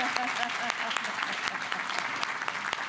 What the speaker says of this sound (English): So y'all give her a round of applause